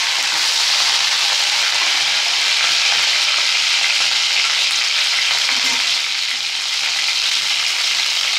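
Brinjal (eggplant) pieces fry in oil in a pan, a loud, continuous close sizzle with a bright, dense hiss and occasional faint stirring sounds, no talking.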